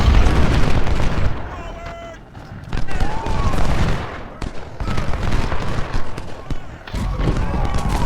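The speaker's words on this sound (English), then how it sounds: "Now we're going to start using the artillery to attack the enemy position in the south of the city." Artillery fire in a Civil War strategy video game, loud rumbling booms and crackling volleys that come in dense bursts and keep going through the whole stretch, with a voice talking over them in places.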